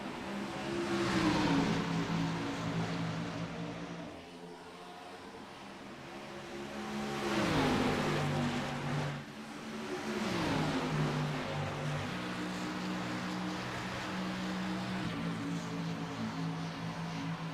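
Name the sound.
race cars at green-flag start, from a racing video game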